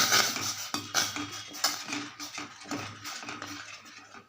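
A spoon stirs a payasam mixture in a metal vessel to keep lumps from forming, giving a run of close, light clinks and scrapes at an uneven rhythm, with no voices.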